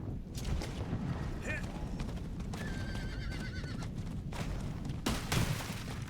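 A horse in Diablo 4 neighs and whinnies several times over a constant rumble of galloping hooves, with a voice speaking quietly in the background.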